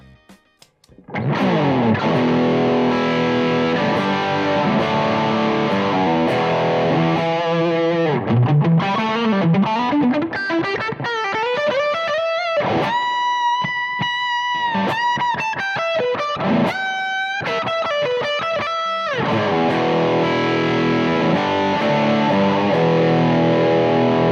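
A heavily distorted electric guitar through a Suhr Thornbucker+ humbucker pickup plays loud chords and riffs with a thick, saturated tone, including a run of sliding and sustained bent notes before heavy strumming returns.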